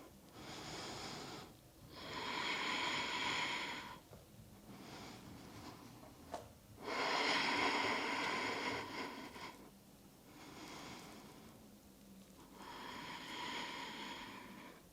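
Slow, deep yoga breaths during a vinyasa flow, long airy inhales and exhales of a few seconds each, alternating with short quiet pauses, close and fairly soft with no talking.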